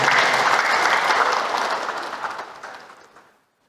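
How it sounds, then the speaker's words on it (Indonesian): An audience at an indoor gathering breaks into loud, dense clapping that holds steady for a couple of seconds, then fades away and stops. "Aplaus untuk kita semua."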